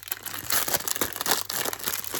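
Plastic packaging from a Temu scrapbooking haul crinkles and crackles as it is unwrapped, a close, busy stream of rustling with irregular bursts throughout.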